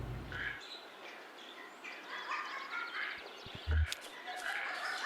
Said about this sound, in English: Oh, those are birds that are screaming.